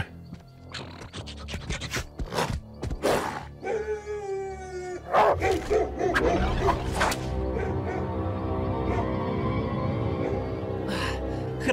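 Cartoon dogs bark and howl in bursts amid a busy soundtrack, with a long wavering howl in the middle and loud layered effects and music continuing steadily afterward.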